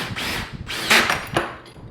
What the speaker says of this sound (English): go ahead and tighten these bolts to kind of pull everything in here